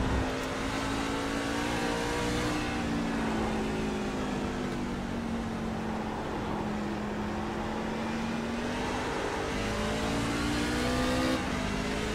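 Craftsman Truck Series race truck in iRacing at Mid-Ohio, its engine droning steadily and rising in pitch under acceleration, loud and continuous with no talk.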